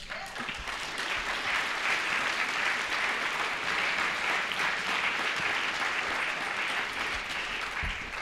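Sustained audience applause for an award speech at a lawyers' guild gathering, a dense, even roar of many hands clapping that holds steady throughout, moderately distant and without voices on top.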